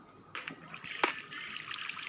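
Water splashes and sloshes in a short burst in Minecraft, with one sharper splash in the middle, fairly faint and without talking.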